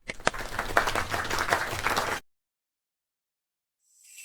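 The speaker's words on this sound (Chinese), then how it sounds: "鼓掌！" Applause from a studio audience at an antique appraisal show, after a dragon-and-phoenix wine vessel is judged genuine. Dense, steady clapping runs for about two seconds, then cuts off into silence.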